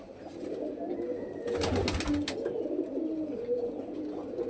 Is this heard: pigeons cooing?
yes